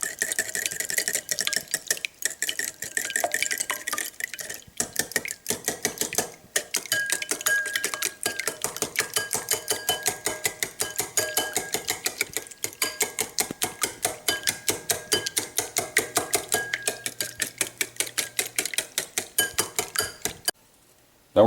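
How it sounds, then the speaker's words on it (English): Eggs lightly whisked in a bowl for creamy scrambled eggs, a fast steady run of metallic clicks and taps of the whisk against the bowl, close and continuous for about twenty seconds before stopping abruptly. "now we're just going to lightly whisk these together"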